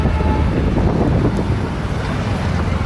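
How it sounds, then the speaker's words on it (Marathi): Steady wind buffets the microphone with a continuous low roar, loud and unbroken throughout, with no voices. "आज मस्त दिवसभर थोडासा वारा सुटलेला आहे"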